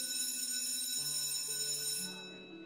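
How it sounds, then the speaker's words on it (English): A school bell rings out boisterously at the start of a break, a loud sustained ringing tone with steady overtones that stops abruptly, then fades away. "The bell which signaled their school break rang out boisterously"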